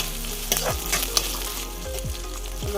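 Crab frying in a pan with onion, crackling in a steady loud sizzle, broken by a few short scraping stirs and clinks near the microphone.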